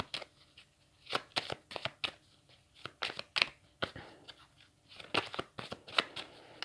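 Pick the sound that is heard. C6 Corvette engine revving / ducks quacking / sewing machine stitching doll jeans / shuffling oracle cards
shuffling oracle cards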